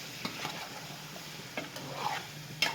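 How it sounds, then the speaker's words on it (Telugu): Quiet stirring and scraping of fish curry (korameenu pulusu) in a pan, a few soft spoon taps over a faint sizzling background. "ఒకసారి ఇట్లాగా బాగా కలుపుకోవాలి"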